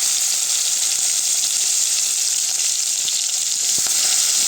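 Onions and green chillies dropped into hot oil for an Andhra-style egg and prawn curry, giving a steady, loud frying sizzle that runs throughout with a few faint clinks near the end.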